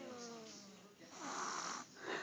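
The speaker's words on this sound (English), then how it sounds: "He just snores really loud." A sleeping toddler snores loudly while napping on a parent, with rasping drawn-out breaths up close, one inhale fading into a louder rattling snore.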